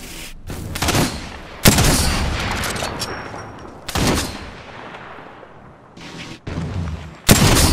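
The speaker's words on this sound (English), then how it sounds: "I'm taking the shot." Heavy gunfire in Apex Legends at King's Canyon, with loud sharp shots at intervals, each trailing into a long rumbling echo, and a brief spoken line under the noise.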